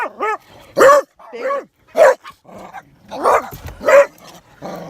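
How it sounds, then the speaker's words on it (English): A dog barks and yips repeatedly up close, loud and insistent, in irregular bursts with whiny, whimpering pitch bends between barks and no talk over it. "I'm just gonna get a boy dog."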